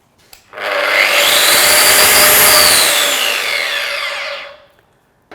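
An angle grinder with soft start winds up gradually to a high whine, runs steadily for a few seconds, then spins down, loud and close with no talking.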